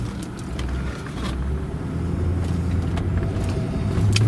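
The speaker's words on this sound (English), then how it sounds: "I'm just going to leave it in D for the moment and drive it around so you get a feel for it" A 2005 Maserati Quattroporte Executive GT being driven in drive, its engine giving a steady low rumble with road noise that builds slightly as it moves, with no talking.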